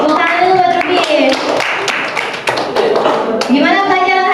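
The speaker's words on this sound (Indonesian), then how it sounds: "tepuk tangan dulu buat Ruby." A classroom gives brief clapping for a student after a presentation, a few scattered claps and taps over voices talking close by.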